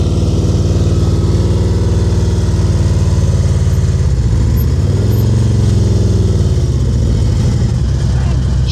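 A motorcycle engine runs steadily close by during slow-speed riding practice, a loud continuous drone with a slight dip and wavering pitch midway.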